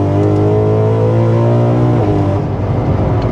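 BMW M3 E92 GTS engine revving hard while the car drifts through a corner, a loud, close, steady high-pitched howl that drops away near the end.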